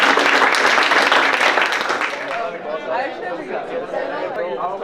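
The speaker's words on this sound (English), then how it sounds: "So one more round of applause for Jordan." Applause from a TEDx Indiana University audience for a speaker, loud clapping at first that thins out after about two seconds into crowd chatter and a speaking voice.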